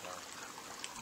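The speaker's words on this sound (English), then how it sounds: "There's a fresh spring, and water is running down." Water from a fresh spring runs down a rocky ravine in the Huachuca Mountains, a faint, steady trickle and gurgle heard alone for a brief moment.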